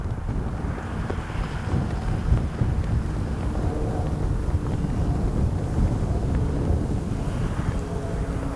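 Steady wind buffets the microphone, a constant low roar and rumble that continues throughout with no voices.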